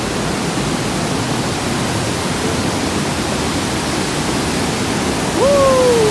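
Strong river rapids at a viewing deck by a waterfall-like torrent, a loud, continuous broadband roar that fills the whole clip, with a brief higher tone near the end.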